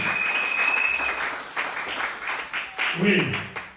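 A church congregation at a Tuesday worship service claps in praise, a bright patter of many hands rising and falling in bursts, mixed with a preacher's voice and some exclamations over it.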